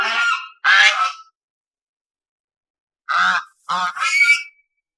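A goose honks loudly several times in close, harsh bursts, two at first and then three more after a silent pause.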